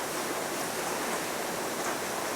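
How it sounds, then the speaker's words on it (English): Heavy rain pours outside as a steady, dense hiss that continues unbroken and fairly soft for the whole stretch. "Can anyone else hear the rain?"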